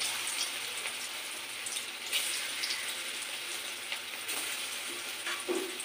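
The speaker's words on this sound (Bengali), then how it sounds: "আমি ময়দা কর্নফ্লাওয়ার ছাড়াই এগুলো ভাজছি।" Jackfruit koftas deep-frying in hot oil, made without flour or cornflour, give a steady crackling bubble with scattered sharper pops, close and fairly quiet, with no voices.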